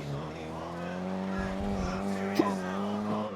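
Go-kart drifting in the racing game GRID (2019), a buzzing high-revving small engine held steady with a brief tire squeal and scrape partway through, with a voice talking underneath.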